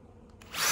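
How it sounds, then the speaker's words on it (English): A power drill spins up to a loud, steady whine as it begins boring holes in wood for beekeeping pollen feeders, rising abruptly after a quiet start. "I just realized I drilled these on the wrong side"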